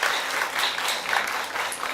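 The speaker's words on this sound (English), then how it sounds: "let's all give them a round of applause for the content" An audience at a youth English presentation contest applauds, a dense, loud wash of many hands clapping together throughout.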